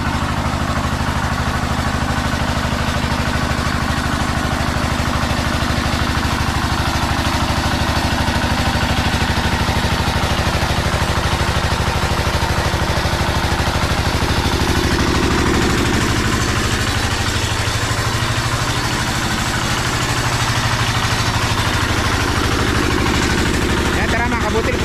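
A farm engine that drives a water pump in a cornfield runs steadily after being restarted, a continuous close rumbling drone under people talking throughout.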